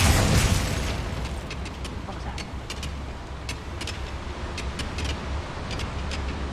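The Bombarda spell bursts in Hogwarts Legacy with a sharp, loud pop at the very start, followed by a steady rushing rumble and scattered crackles while combat continues.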